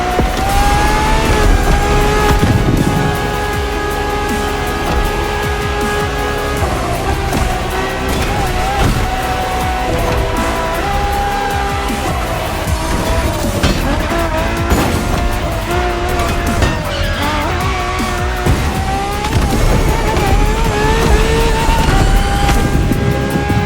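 A Ferrari LaFerrari hybrid supercar races in The Crew Motorfest, its engine howling loud and close as it climbs and drops in pitch through gear changes, with bursts of tire squeal and skidding throughout.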